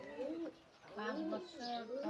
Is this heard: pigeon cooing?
yes